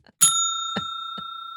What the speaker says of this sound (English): We're going to be using the bell today.